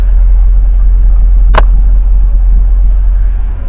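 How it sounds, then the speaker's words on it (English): A Mercedes ML truck engine idles with a heavy, steady low rumble close by, broken only by one brief sharp click partway through. "the truck's been running for about 10 minutes now"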